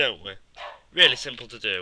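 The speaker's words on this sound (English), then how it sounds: "Apologise for my dog. She always decides to bark at the most awkward times." A pet dog barks indoors in a few sharp yips near the start, then someone talks through a game-development tutorial.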